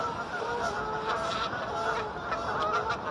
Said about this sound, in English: Foreign geese landing.